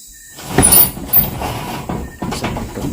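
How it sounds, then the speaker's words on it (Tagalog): A door in an abandoned house swings shut on its own, giving a creaking slide and a couple of thuds and knocks in close succession, loud and near. "naisara pa yung pinto"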